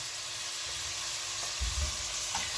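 Tomatoes with salt and turmeric sauté in a pan, making a steady, soft sizzle with a brief stirring bump partway through and no talk.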